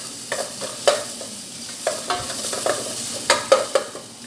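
Chopped, crushed garlic fries loudly in soybean oil. The sizzle is close and crackling, and repeated spoon scrapes and taps on the pan sound throughout.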